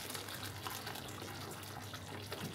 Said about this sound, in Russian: Так, потихоньку кипяток наливаю.